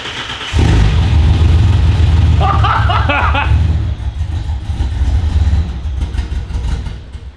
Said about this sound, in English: Ah, there's that chop we like.